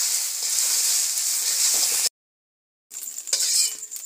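Beaten egg fries lightly in a pan for egg chowmein, a bright, close, crackling sizzle that cuts to silence briefly and then resumes with a few clinks, with no voices.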